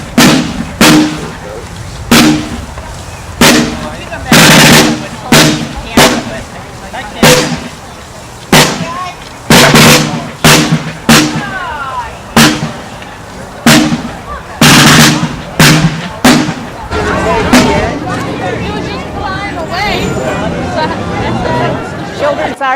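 Musket volleys boom out at a historical reenactment during a county history and heritage day, loud repeated reports in irregular bursts over about twenty seconds, with crowd chatter and shouted commands between them.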